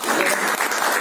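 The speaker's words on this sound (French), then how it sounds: "je crois qu'on peut applaudir notre invité" An audience at a round table discussion applauds the guest, a dense, even wash of many hands clapping at close range without a break.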